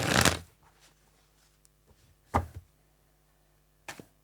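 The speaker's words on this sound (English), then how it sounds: "I'm going to shuffle a little bit." A few brief tarot card shuffles close by, three short riffling bursts separated by quiet pauses, no talking.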